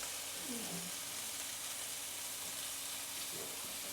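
Beef burger patties with 20% fat sizzle in a pan beside onions, giving a steady, moderate frying hiss with a few faint scrapes, heard close and alone.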